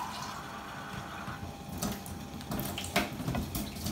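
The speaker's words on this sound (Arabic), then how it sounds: "صافي كتفكوها وكديروا عليها الماء وهي باقا سخونه." Water poured from a large glass over freshly cooked, still-hot vermicelli outdoors in a garden, a soft splashing and running trickle lasting a few seconds with a brief stronger gush near the end.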